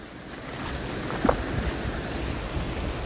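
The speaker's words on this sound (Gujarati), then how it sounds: "તો ઉપરથી પાણી જાય છે," Floodwater from heavy rain pours over the top of the Kamnath village river, a steady broadband rush, loud and continuous with a brief splash partway through.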